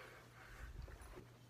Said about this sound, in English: That was my dog.